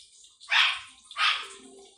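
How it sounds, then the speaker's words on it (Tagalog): A dog barks twice in quick succession somewhere in a home kitchen, two sharp, bright yelps a moment apart, slightly distant, with quiet background in between. "Tumatahol yung aming aso"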